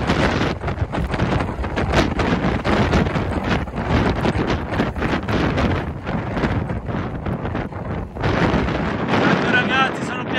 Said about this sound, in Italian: Guardate quanto cacchio tira il vento